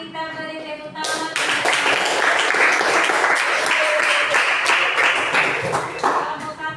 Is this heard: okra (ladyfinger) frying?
no